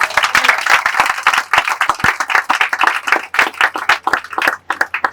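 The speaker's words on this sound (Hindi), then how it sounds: "हम सब प्रभु को महिमा की तालियां देंगे।" A church congregation claps together at a worship service, a dense, loud burst of hand claps with quick irregular strikes that runs unbroken for several seconds, close and lively.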